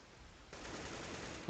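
Gunfire in a Counter-Strike match: a steady burst of rapid shots runs for about a second and ends in one louder, sharper report.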